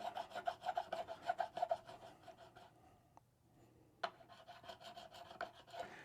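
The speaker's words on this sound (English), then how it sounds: "I'm also doing this fretwork on a guitar with stainless steel frets" Metal filing and sanding on the stainless steel frets of a guitar, a rhythmic rasping of repeated strokes up close, pausing briefly midway before a few more scrapes.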